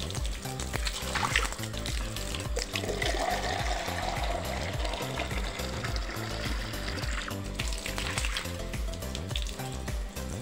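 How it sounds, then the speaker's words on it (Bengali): Tap water gushes steadily into a mug, filled to wash a balcony, a continuous splashing rush that stays loud and unbroken with no speech. "খুলে মগে করে করে জল নিয়ে গিয়ে ওই দিক থেকে ঢালতে হবে।"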